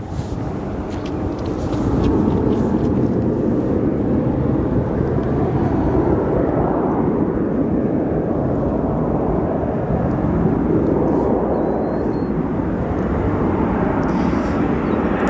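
An American Airlines 787 Dreamliner arriving at O'Hare airport after a long-haul flight from London Heathrow, a loud, broad rumbling roar that swells in and holds steady with slowly shifting pitch.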